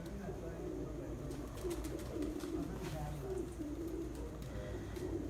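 Low, rolling coos from homing pigeons settling after a Punjab pigeon-flying championship in Sialkot run continuously and fairly close, with voices talking over them.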